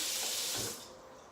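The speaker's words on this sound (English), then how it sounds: "Rinse my hand." Tap water running hard over a hand being rinsed in a kitchen sink, a close, loud, steady spray and splash that drops abruptly to a softer trickle near the end, with no speech.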